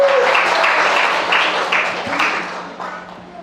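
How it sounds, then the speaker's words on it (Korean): A church congregation applauds the elders during a Sunday service, a dense, steady wash of clapping that gradually thins and fades. "어른들께 박수."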